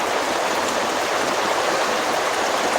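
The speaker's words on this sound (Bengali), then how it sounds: "এখন রাত্রেবেলা প্রচুর বৃষ্টি হইতেছে" Heavy rain pours down at night in Madhabpur, Habiganj district, Bangladesh, a dense, steady roar of water that fills the whole clip without a break, loud and close, with no voices.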